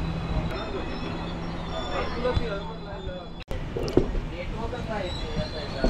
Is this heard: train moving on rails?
yes